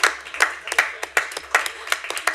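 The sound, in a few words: clapping at a board meeting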